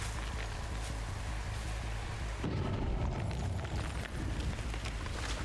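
A fire barrel burning in Dead by Daylight, a continuous crackling roar that thickens into a heavier, fuller rumble partway through, with no voices.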